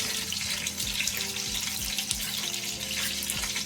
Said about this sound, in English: rinse them off and just put them in the pot to cook